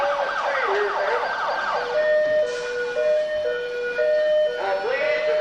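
A police car siren wails in a stepping two-tone pattern, loud and close, as the squad car comes down the street of a ghost town during a staged 1986 bank robbery show.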